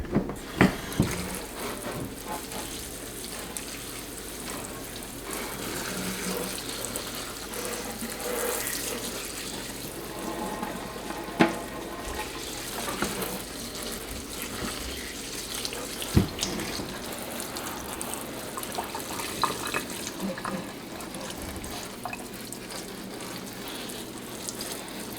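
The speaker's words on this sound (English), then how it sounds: "I'm gonna give them a really thorough watering and then I'm gonna fertilize them" Water pouring steadily while hoya plants are given a thorough watering, a continuous splashing rush with occasional drips and clicks, moderately loud and uninterrupted, with no talking.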